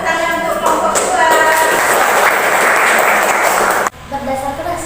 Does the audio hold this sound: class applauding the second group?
yes